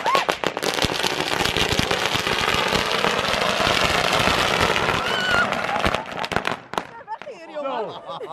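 Dense, rapid crackling of New Year's Eve firecrackers and fireworks popping nonstop, loud and close, thinning out near the end as voices shout in the background.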